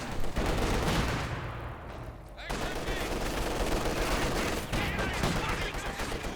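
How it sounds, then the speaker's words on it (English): Machine gun bursts and scattered gunfire from a Company of Heroes 2 battle, a steady dense rattle across most of the stretch with a brief lull near the middle, loud and close in the game mix. "Machine gun in the middle."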